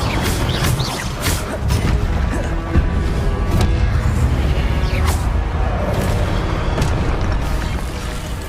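Spell effects from the Hogwarts Legacy video game fill the scene with dense, loud booming and crackling blasts, several sharp bursts crashing over a steady roar, with no talk.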